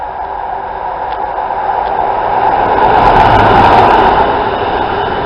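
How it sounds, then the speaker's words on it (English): A Class 377 electric train runs through a station in a swelling, steady rush of wheel and motor noise that grows louder toward the middle, then eases slightly, heard from the platform. "It's an electric train."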